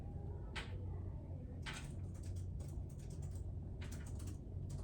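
Keys tapped on a computer keyboard to enter a property address into a real estate search, heard as short scattered bursts of clicks over a steady low hum.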